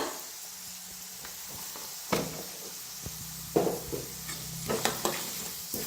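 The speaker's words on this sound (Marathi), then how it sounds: "इकडे मसाला भी आपला छान भाजायला लागलेला आहे" Spice masala roasting in a pan for a Kolhapuri snack, a faint low sizzle under scattered spoon scrapes and clinks that grow more frequent toward the end.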